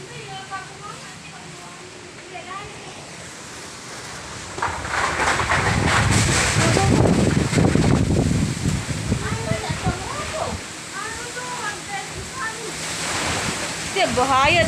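Strong wind in Lombok roars in gusts, swelling to a loud rushing peak midway before easing, with people talking over it.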